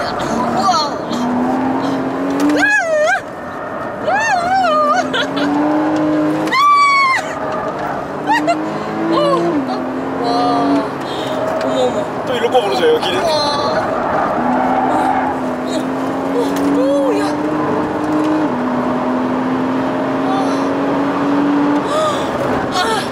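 A Porsche 981 Cayman S laps the Inje Speedium race track, its engine revving hard and dropping through gear changes with brief tire squeal, loud and close from inside the cabin while people talk and exclaim over it.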